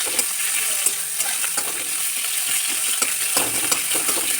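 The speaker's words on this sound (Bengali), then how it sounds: "এখন নাড়ছি আম দিয়ে।" Mango pieces stirred and fried in a pan with mustard seeds, a steady sizzle dotted with scattered clinks and scrapes of a ladle against the pan.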